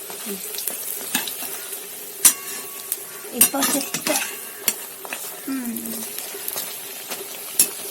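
Bora fritters frying in hot oil in a pan, a soft sizzle broken by clinks and scrapes of a utensil against the pan and a few sharp knocks.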